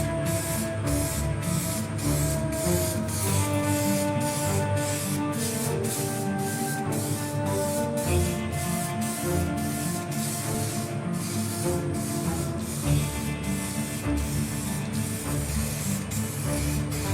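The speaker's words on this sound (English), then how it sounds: "give it 2 rounds of a clear coat spray" Clear coat spray going onto a wooden table runner made from paint stir sticks, a continuous hissing spray with short regular bursts and a steady mechanical tone behind it, close and loud throughout.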